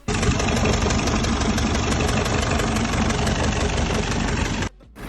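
A diesel car engine with a faulty injector idles loudly and roughly up close with an uneven, knocking rattle, then cuts off abruptly near the end.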